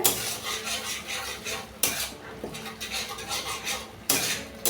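A spoon stirs ginger garlic paste in a pan for butter chicken with potatoes, with sharp metallic scrapes and clinks against the pan at irregular intervals over a low background hiss, with no one talking.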